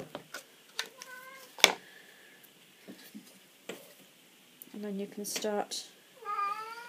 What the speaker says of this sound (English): Do excuse my cat yowling in the background